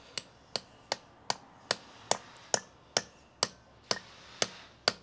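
Twelve sharp, evenly spaced hammer taps while fitting a rear limited-slip differential to a kit car, close and fairly loud, each with a short ringing decay.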